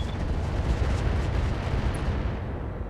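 Heavy mech weapons pound away in RogueTech, a dense, continuous low rumble of cannon and missile fire striking an Atlas from behind, loud and sustained with no talking.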